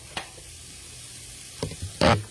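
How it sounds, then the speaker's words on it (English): Steady low sizzle of food frying in a Rockcrok pan, with a few louder bursts of clatter and stirring near the end. "You can kind of hear that sizzle going in the background."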